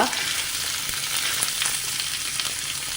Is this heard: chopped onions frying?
yes